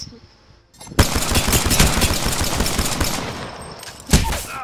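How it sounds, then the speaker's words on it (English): Dense, loud gunfire in the video game Apex Legends, a sustained fusillade of rapid shots for several seconds followed by a final sharp burst, with no talking. "They're shooting at me."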